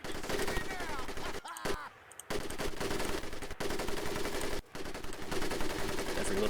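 An M1919A4 .30 caliber machine gun fires in Medal of Honor: Pacific Assault, sustained rapid bursts broken by a few short pauses, loud and near, with voices talking underneath.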